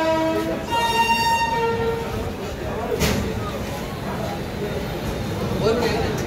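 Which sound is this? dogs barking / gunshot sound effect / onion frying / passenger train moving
passenger train moving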